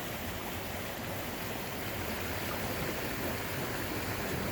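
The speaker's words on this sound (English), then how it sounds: "This is Punch Bowl Falls." Punch Bowl Falls on the Eagle Creek Trail pours as a steady, full rush of falling water, close and unbroken with no voices.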